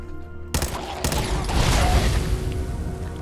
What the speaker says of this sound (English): Oh, there's gunshots in the place.